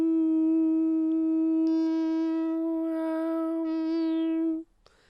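A beatboxer's voice imitates a siren: a steady, loud, rich harmonic tone that holds for about four and a half seconds with slight pitch shifts, then cuts off abruptly, leaving near silence.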